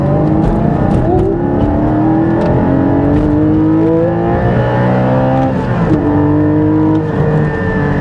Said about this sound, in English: It just holds on to those revs for so long, and it just sings and sounds amazing.